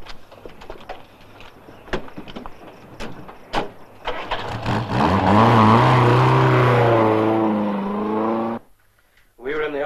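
A car engine starts and revs up with a rising, steady drone that swells to a loud sustained roar, then cuts off abruptly near the end; scattered knocks and bumps come before it.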